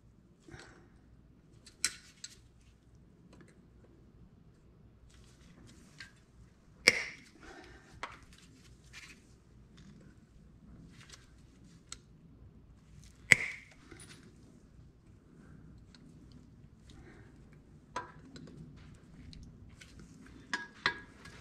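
Sharp, isolated snips as a bent cotter pin on a Farmall H tractor is cut off during oil pan work, a few crisp metallic clicks and clinks spaced out over quiet shop background.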